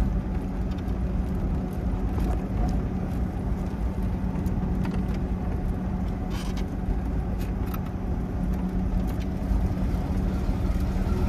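A Tofaş car with a broken exhaust idles and rumbles continuously, with a rough, steady drone close by and no voices.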